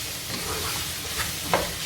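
Sliced onions frying in coconut oil for a Kerala chicken roast while being stirred, a continuous close sizzle with scraping stir strokes and a sharper clatter near the end.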